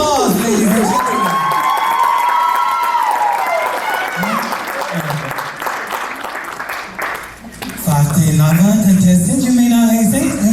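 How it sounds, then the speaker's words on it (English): Audience applause and cheering for contestants at a Samoan Tausala and Manaia pageant competition, a loud sustained crowd wash with whoops, mixed with an emcee's amplified voice talking over it. "A round of applause, ladies and gentlemen."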